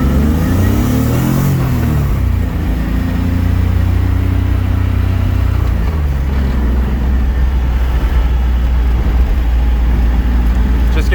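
A custom BMW E30 race car engine revs while driving, a loud, close, continuous mid-pitched roar with pitch swells as the throttle rises and falls, and some speech is mixed in under the engine.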